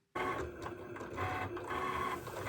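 A Cricut cutting machine cuts heat transfer vinyl for socks, starting abruptly and running with a steady mechanical whir and buzzing motor tones, close up, with no voices.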